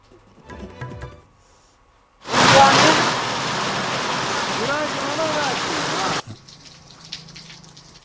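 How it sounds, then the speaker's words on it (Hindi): Heavy rain with hail in the Alwar district of Rajasthan, a loud steady wash of falling water lasting several seconds between quieter stretches with faint voices. "उधर अलवर जिले में आज सुबह से भारी बारिश हो रही है"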